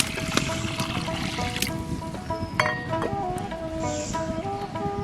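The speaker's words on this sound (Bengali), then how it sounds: "কড়াইতে জল দিয়ে দিলাম।" Water is poured into a wok while cooking a sour red potato, long bean and mango dish, a steady close splashing trickle with faint clinks of utensils running throughout.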